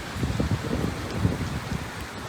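Steady hiss of heavy rain during flooding in French Guiana, with low rumbling wind buffeting against the microphone throughout.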